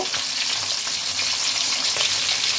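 Tilapia fish pieces frying in hot oil, being turned so both sides brown, with a loud, steady hiss and crackle running continuously throughout and no one talking.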